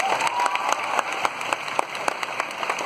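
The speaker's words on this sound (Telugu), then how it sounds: "అందరు ఒకసారి క్లాప్స్ కొట్టండి." College auditorium crowd at a university comedy performance clapping together, a sustained burst of applause with a few sharper individual claps standing out, no talking over it.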